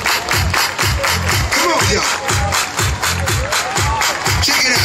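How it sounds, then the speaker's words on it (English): A crowd claps in unison on the Coney Island boardwalk on a Friday night, strong rhythmic beats repeating steadily, close and loud, with cheering, shouting and a voice calling out over the music. "Everybody clap your hands."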